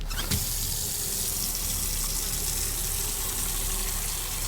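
Water gushing from a tap into a bucket for a lung float test in the Autopsy Simulator video game, a loud steady splashing stream that continues throughout.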